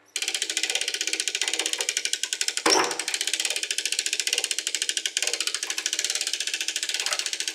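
A boat-winch-style hand crank raises the ram of a Rogers 60 ton hydraulic press, giving a steady run of quick, even ratchet-and-pawl clicks with one louder metallic clunk partway through. No one speaks.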